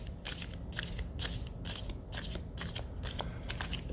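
Tarot cards are shuffled in a close, quiet series of rapid riffling bursts, about eight evenly spaced crisp flutters with no talk.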